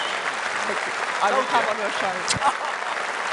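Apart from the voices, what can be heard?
audience applause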